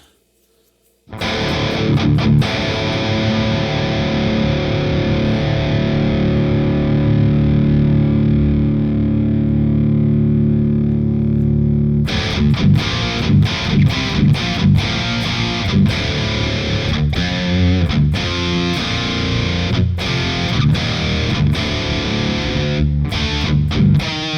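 Heavily distorted electric guitar through the Audiority Solidus amp plugin, chasing a death-metal tone: a long sustained chord rings out, then tight, chugging palm-muted riffing with sharp stops, loud and continuous with no talking.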